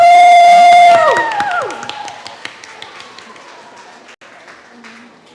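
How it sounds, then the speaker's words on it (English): Audience at a family festival breaks into scattered, fairly light clapping after a loud whooping cry at the start, the claps thinning out and fading under crowd murmur. "Let's get a round of applause."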